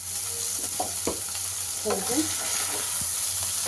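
Gokarakaya, ground with salt, frying uncovered in a pan while being stirred: a continuous loud sizzle runs throughout, broken by scraping clicks and knocks of the spoon against the pan, and one brief spoken word.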